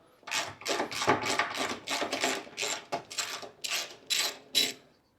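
A ratchet working 10mm bolts loose on a Mazda MX5 front end, a close run of quick rasping clicks in short bursts, steady and alone without speech.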